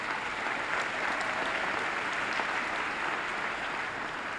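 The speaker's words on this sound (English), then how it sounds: "That is something, we can applaud that." A large crowd applauds at the 2013 Midland High School graduation ceremony, a continuous even wash of clapping from many hands, held at a steady moderate level.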